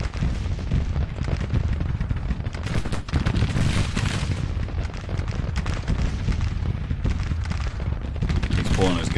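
Heavy massed musket and artillery fire rolls across a Civil War battlefield in Grand Tactician: The Civil War, a constant loud crackle of volleys and booming shots with no pause.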